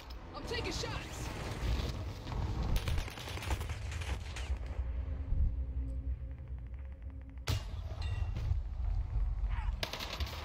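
Video game gunfire from Mighty Army comes in dense bursts of rapid shots with brief pauses, mixed under people talking.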